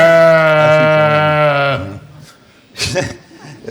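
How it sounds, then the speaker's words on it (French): A recorded sheep bleat plays loud and close, one long wavering bleat lasting under two seconds, followed by some faint sounds and a brief burst. "Vous avez reconnu, évidemment, d'un bêlement de mouton"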